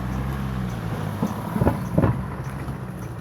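A tram rumbles past nearby, a low steady drone broken by a couple of dull clanking knocks in the middle.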